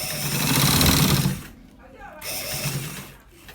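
A sewing machine stitching the V-neck of a men's kaftan runs in two close bursts separated by a short pause, a rapid mechanical whirr with fine repeating clicks.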